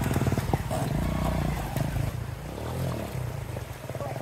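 A motorcycle engine drones and revs as the bike is taken across a shallow rocky stream, a loud close rumble with shifting pitch and some clatter throughout.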